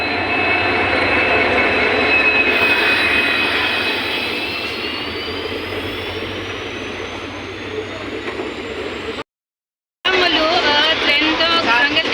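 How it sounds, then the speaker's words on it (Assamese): A train rolls into Silapathar station with a loud, steady rumble and a thin rising whine, the mechanical noise close and continuous before briefly cutting out. "এতিয়া মই ট্ৰেইনত যাম। ট্ৰেইন আহি"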